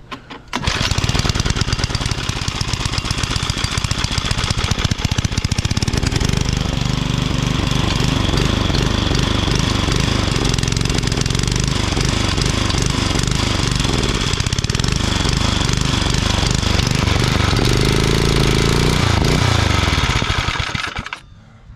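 A small petrol rototiller engine with a troublesome air filter starts up and runs steadily and loudly for about twenty seconds, its rough, knocking drone holding fairly even before cutting off at the end.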